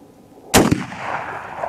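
A single loud, close rifle shot from a Winchester Model 64, a sharp crack followed by a short echoing decay outdoors.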